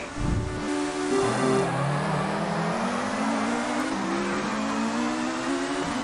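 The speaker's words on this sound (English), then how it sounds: "Wheel spin." Touring car engine revving hard with rising pitch and tyre squeal from wheel spin at a short sprint race start in TOCA 2 Touring Cars, a continuous loud roar with no talking.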